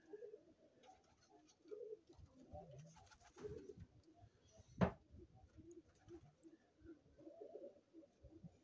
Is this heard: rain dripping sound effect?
no